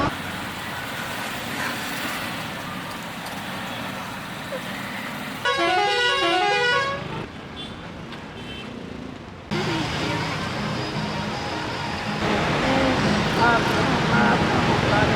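Local bus pulling away through busy Kathmandu street traffic, a steady engine and road roar with a burst of patterned honking around the middle, then louder traffic noise continuing to the end, with a voice speaking.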